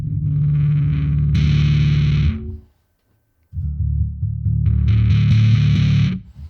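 A bass guitar runs through a Blackstar Unity 700 amp with the distortion drive turned up, growling loud and gritty in two long sustained bursts split by a short silence.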